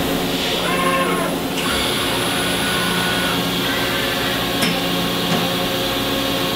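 A 5-axis CNC machine in a machine shop runs a spot-drilling pass on a part, giving a steady loud mechanical drone with whining tones and a few brief sharp ticks throughout.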